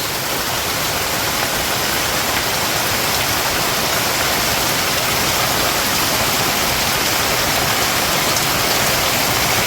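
Heavy rain pours down on a Bangladeshi village during the rainy season, a dense, unbroken hiss that stays loud and even throughout with no voices.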